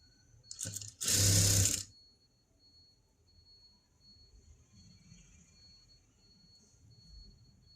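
Sewing machine stitching a strip onto a princess-cut blouse with a boat neck, a short loud burst of running stitches after a couple of brief taps, then near silence with faint background noise.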